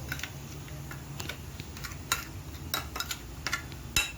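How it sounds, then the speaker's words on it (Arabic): A spoon stirs a Sangari-style fish mixture in a pan, making a scatter of small clicks, taps and scrapes at an uneven rhythm, close and fairly quiet, with no talking. "ونبدا بقى كده نقلب كده تقليبه حلوه"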